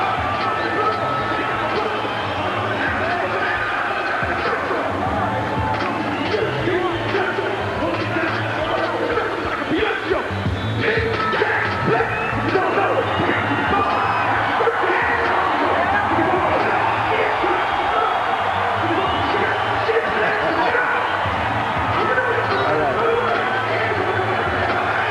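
Dense crowd roar and chatter fill a boxing arena as Roy Jones Jr. reaches ringside before his fight with Richard Hall, a steady loud hubbub with scattered yells throughout.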